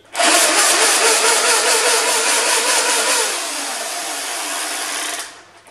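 Motors in a Nerf Revreaper Zombie Strike blaster whir loudly at close range, a bright high-pitched spinning whine that holds for about three seconds, drops to a lower hum, then winds down to silence.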